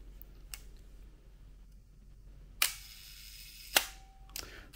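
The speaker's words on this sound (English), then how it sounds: "we see that shutter is opening, but the mirror is not flipping up" A 35mm film SLR camera with a fault where the mirror does not flip up fires its shutter, giving several sharp mechanical clicks spaced about a second apart, close and crisp in a quiet room.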